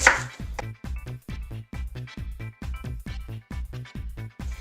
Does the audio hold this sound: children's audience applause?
no